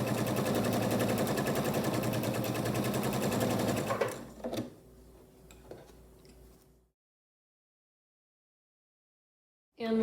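A sewing machine stitches pieces for a 12.5-inch flower basket quilt block in a fast, steady whir for about four seconds, then slows into a few brief bursts and stops, leaving silence before a short final whir.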